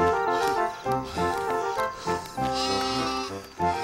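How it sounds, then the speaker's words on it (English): Cartoon sheep bleat in a steady series of wavering, nasal cries, fairly close and loud, with several overlapping bleats rising and falling across a few seconds. "Get back with the other sheep."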